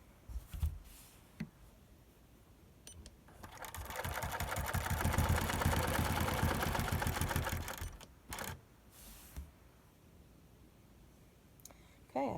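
A long-arm quilting machine stitches on a Cutie quilting frame, its rapid needle rattle swelling loud and steady for several seconds, with brief bursts of running before and after between quieter pauses.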